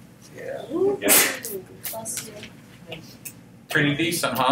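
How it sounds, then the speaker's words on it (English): A single sharp sneeze bursts out, loud and close, between stretches of casual talk in a quiet room, with a second louder breathy outburst near the end. "Sneezing while I'm trying to record my video."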